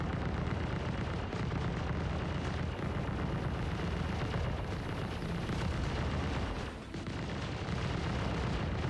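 Gunfire and explosions in the space game Star Citizen, a dense continuous roar of shots and booms rumbling without pause, loud and steady throughout, with no speech.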